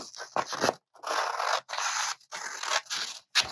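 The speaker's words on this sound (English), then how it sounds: "I'm going to go ahead and cut these little guys off" Scissors snip small pieces off a handmade Christmas craft gift in a quick run of close, crisp cuts with short scraping strokes and brief pauses between bursts.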